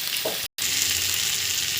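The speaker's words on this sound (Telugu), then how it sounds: "ఇవి పచ్చిగా ఇందులో ఉన్న తేమంతా వించుకుపోయి మనకి కొంచెం గోల్డెన్ కలర్ వచ్చే వరకు కాకరకాయ బాగా ఫ్రై అవ్వాలి" Bitter gourd (kakarakaya) slices fry in oil in a pan, giving a steady, close sizzle that cuts out for a split second and then carries on evenly, with no talking.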